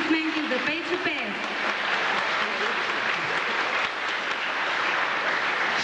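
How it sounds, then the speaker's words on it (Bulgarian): Concert crowd applauds gadulka player Peycho Peev with sustained, dense clapping, while a presenter talks loudly over the start of the ovation. "Още веднъж аплодисменти за Пейчо Пеев!"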